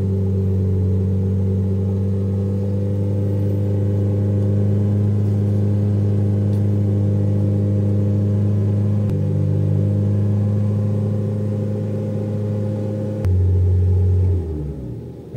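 A new Proton Saga with a 1.5L I-GT engine idles steadily at close range, a smooth, even drone with a low hum under it. The pitch dips briefly near the end, and nobody talks.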